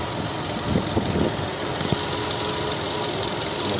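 A 2007 Skoda Octavia A5 with a 1.6 MPI petrol engine runs at idle, heard up close as a loud, steady mechanical hum with light ticking and no voices.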